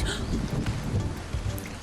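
Rain starting to fall in a park during a small picnic, a dense steady hiss of drops across the whole stretch, fairly loud and close with no voices.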